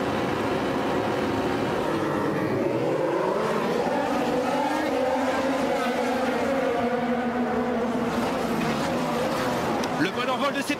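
Formula 1 cars roar away at the start of the 2018 Canadian Grand Prix, a dense, continuous engine howl rising in pitch as they accelerate, heard under a commentator talking throughout.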